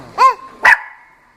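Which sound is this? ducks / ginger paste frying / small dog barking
small dog barking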